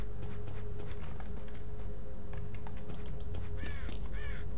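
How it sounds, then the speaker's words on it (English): A crow caws in S.T.A.L.K.E.R. Oblivion Lost Remake, a few harsh caws near the end over loud, noisy game ambience with scattered clicks, and no voices. "Get off, Kid Fury, stupid crow"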